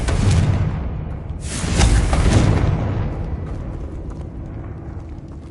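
Bombarda and Confringo spell explosions in a Harry Potter video game: a loud, booming blast opens, then a second rumbling burst follows about a second and a half later before fading into a low roar.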